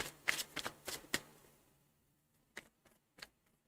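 A deck of tarot cards is shuffled with a quick run of crisp riffling flicks up close, followed by a few isolated soft card taps after a short pause, in an otherwise quiet room.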